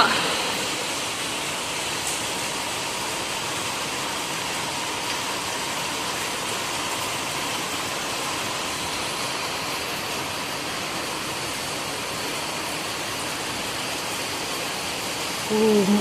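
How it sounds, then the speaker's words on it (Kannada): Steady, dense rain pours in a village during the first Visakha rain of the season, a continuous heavy hiss that stays even and close throughout with no voices. "ವಿಷಾತಿ ಮಳೆ ಮೊದಲನೇ ಬಾರಿಗೆ ನಮ್ಮ ಊರಲ್ಲಿ ಉಯ್ತಾ ಇರೋದು"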